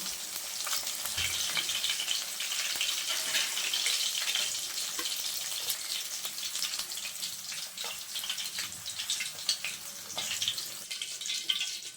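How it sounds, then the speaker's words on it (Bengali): Fish frying lightly in a pan, a steady soft sizzle and crackle of hot oil, fairly quiet and close, with occasional clinks and no talking. "মাছটা আমি খুব বেশি ভাজবো না, হালকা করে ভেজে নিয়েছি, এখন তুলে নেব।"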